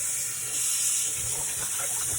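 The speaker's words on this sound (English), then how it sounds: "So I'm going to wash my meat. Cold water." Oxtail meat rinsed under a cold running tap in a kitchen sink, a steady moderate hiss of flowing water with faint splashing, continuous and fairly close with no talking.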